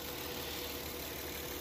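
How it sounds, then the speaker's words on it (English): A Honda J-series V6 idles steadily after its radiator is topped off, a continuous low engine drone that stays even and unbroken over a short stretch with no talking. "I'm going to let it sit here at idle and do what it's doing first."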